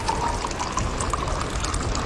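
Hot water pours steadily from an Atomy thermal tumbler into a cup of potato ramen. The stream is close and continuous, with no talking over it.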